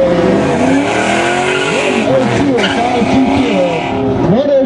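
Autocross race car at a regional SCCA event on an airport course, engine loud and close as it revs and shifts through the finish, with tires squealing and a commentator's voice faintly underneath.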